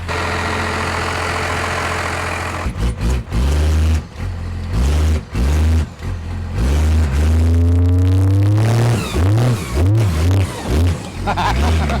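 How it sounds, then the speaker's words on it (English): Jeep engine idling steadily, then cutting out and restarting in a series of stuttering bursts before revving up as it drives over, loud and close, with a brief voice mixed in. "Okay, I'm gonna take my Jeep over and shine the headlights on it."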